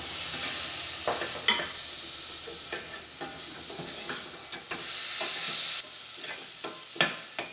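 Tomatoes go into spices frying in oil for a green peas curry, and a bright sizzle rises under repeated stirring scrapes and clinks of a utensil against the pan, with no talking.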